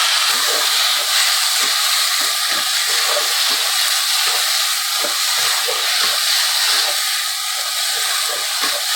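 Chopped tomatoes added to softened onions in a hot pan give a loud, continuous, close sizzle with crackling pops throughout.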